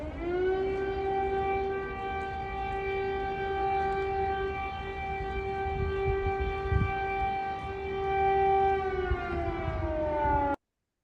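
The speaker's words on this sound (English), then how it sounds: "You're going to be hearing air raid sirens in Russia, Ukraine." A loud, sustained air raid siren wails on one steady harmonic tone, holding evenly for about ten seconds before its pitch sags slightly and it cuts off abruptly.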